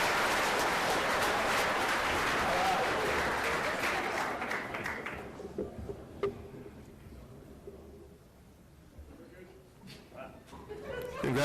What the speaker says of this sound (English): So give yourselves a round of applause as well for your academic performance.